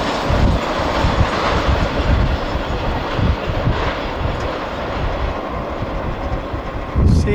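A CSX freight train rolls past close by, a steady loud rumble of wagons with continuous rhythmic clickety-clack from the wheels on the rails, heard alone with no talking.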